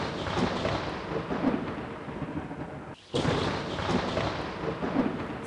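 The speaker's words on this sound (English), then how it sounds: "After the gale there was a storm." Thunderstorm rumble with steady rain and broadband roaring thunder, dense and continuous, briefly dipping near the midpoint before swelling back.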